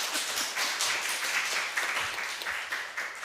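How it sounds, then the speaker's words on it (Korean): Church congregation applauding during a Sunday worship service, a dense, steady wash of many hands clapping close and fairly loud for a few seconds with no talk over it. "할렐루야, 박수 한번 치시죠."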